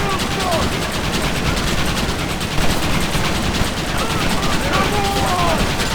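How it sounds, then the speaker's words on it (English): A Gatling gun fires in Red Dead Redemption, a loud, continuous rapid rattle of shots that runs unbroken throughout while voices shout over it. "You man the Gatling gun, Marston!"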